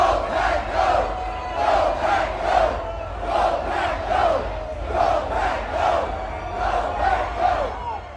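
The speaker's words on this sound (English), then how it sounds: "Here's a quick clip of the sounds of the crowd leaving the game." Green Bay Packers fans chant in rhythmic waves as a large crowd leaves the stadium after a road game at the Chiefs, the steady massed voices loud and continuous throughout.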